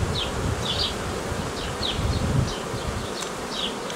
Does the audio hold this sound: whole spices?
no